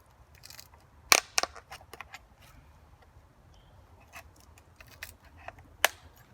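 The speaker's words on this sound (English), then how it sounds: "So I'm just going to start loosening this little cover here." A beekeeper's hive tool pries at the small cover of a queen cage, making faint, sparse clicks and sharp little snaps with quiet gaps between them. No talking.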